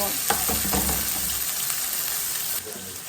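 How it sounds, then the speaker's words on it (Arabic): Tomatoes and hot peppers sizzle steadily in a hot pan, with a few scraping stirs early on before the frying settles into a quieter hiss. "عاملين كام حبايه طماطم اهو مقطعينها زي ما انتم شايفين كده ونقلبها كده لحد ما تستوي"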